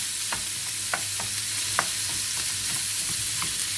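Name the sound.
minced meat frying in a pan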